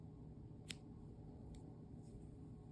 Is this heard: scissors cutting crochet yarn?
yes